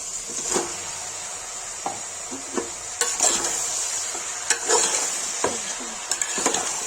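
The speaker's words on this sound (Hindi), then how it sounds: "प्याज भून गया, फिर चिकन डाल देंगे।" Chicken and onions fry in hot oil in a pan for a Kashmiri-style chicken curry, giving a steady near sizzle broken by sharp scrapes and knocks of a stirring utensil against the pan.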